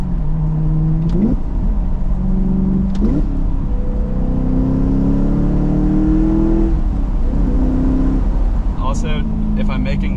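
A BMW E92 M3 with a manual gearbox revs while being driven, its engine rising in pitch through the gears with brief drops at the shifts, loud and close throughout.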